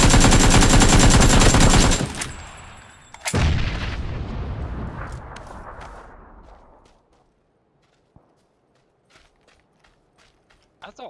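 In a multiplayer shooter video game, a loud blast of gunfire and a grenade explosion erupt together, then the roar decays over several seconds, leaving scattered faint clicks and small sounds.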